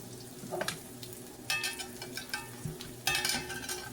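Crunchy battered onion rings fry in hot oil with a steady bubbling sizzle, broken by a few louder bursts of crackling and light scraping as pieces are turned, close by and without speech.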